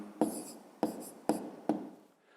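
A pen writing an answer by hand on paper, with four short scratchy strokes spaced at a steady pace, close and quiet, with no voice.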